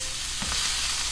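Beef short ribs sizzle in a seasoned cast iron pan, a steady broadband frying hiss throughout with a brief low thump near the middle, close and fairly loud with no voices.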